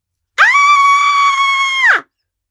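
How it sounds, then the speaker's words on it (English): A single loud, sustained high-pitched scream sound effect from a children's story about a babysitter, lasting over a second and a half against silence and ending abruptly. "Katie heard a loud scream"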